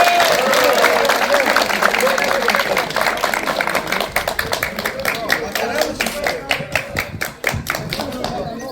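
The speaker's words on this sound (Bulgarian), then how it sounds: "Още веднъж аплодисменти!" Loud crowd applause after a poem reading that thins into scattered individual claps and taps, with voices heard early on under the clapping.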